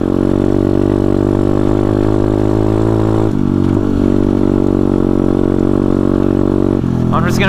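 A pit bike motorcycle engine drones loudly and steadily while riding in third gear on broken suspension, with a brief dip in revs midway and a voice talking over the engine.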